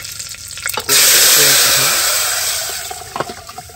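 Curry leaves drop into hot tempering oil for a fish pulusu and burst into a loud, sudden hiss that stays steady, then slowly fades to a softer crackle with faint clinks, heard up close.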